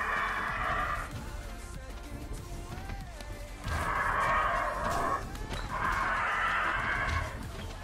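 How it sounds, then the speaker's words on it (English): Birds crowing and squawking loudly in repeated harsh bursts, a rooster-like call sounding three times with a whinnying quality, over a steady background bed. "There are birds."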